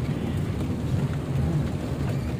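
Heavy rain pours steadily throughout a slow drive in Tagaytay, a dense continuous hiss and rumble of downpour on the moving vehicle with no pauses or voices.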